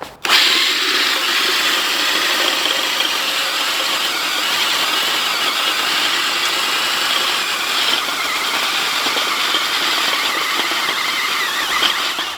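Mechanical broadfork and electric power harrow churning a garden bed for baby greens, a loud, continuous grinding roar with squealing edges that runs unbroken, close by and without talk.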